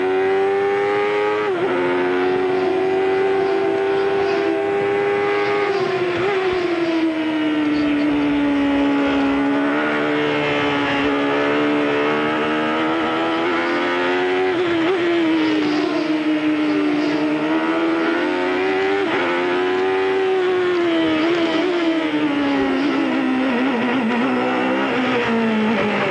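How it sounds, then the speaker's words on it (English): Onboard sound of a 1993 Chevrolet-powered CART IndyCar engine on the Detroit Grand Prix street circuit, a loud, continuous high-pitched wail rising and falling repeatedly as the driver short shifts through the gears, with no talk. "We've got the onboard telemetry from Chevrolet's engine here on Little Al's car"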